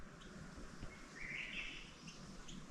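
Small birds chirp and tweet in the trees outside a hotel on a quiet morning, a soft scatter of high calls bunching in the middle over faint ambient hiss.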